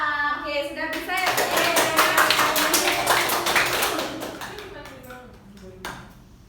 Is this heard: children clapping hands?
yes